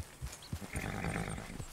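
Tennessee Walker horse in a Red Dead Redemption 2 game, soft hoof clops and a short snort or whinny-like breath, moderately quiet and close, lasting under two seconds.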